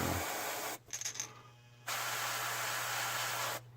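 Close airbrush spraying paint on a shad crankbait lure: a steady hiss in bursts, a short pause with faint clicks, then a longer continuous spray that stops abruptly.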